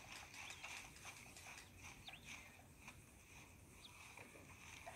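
Horse hooves clip-clop in Red Dead Redemption 2, with faint, fairly regular hoofbeats over quiet outdoor game ambience.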